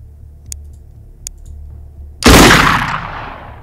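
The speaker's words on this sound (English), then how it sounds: "I'll get some shots off on him." Gunfire in the tactical video game Xenonauts 2: after two faint clicks, a single loud gunshot burst rings out and decays over about a second, with no voices.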